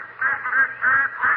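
A radio comedy duck-call sound effect, set on a duck hunt, gives a few nasal, rhythmic quacks in short bursts, fairly loud and close, with no talking over them.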